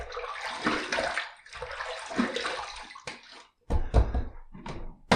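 Water splashed onto the face during a shave, several loud close splashing bursts from cupped hands, followed by sharp short splashes and drips with brief pauses.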